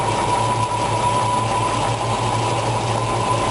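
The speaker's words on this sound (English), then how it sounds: "You can hear the RPMs coming up." A 1965 Ford Mustang GT's 289 V8 idles steadily with a strong low hum and mechanical drone after its ignition timing is advanced, heard close and loud with no talk.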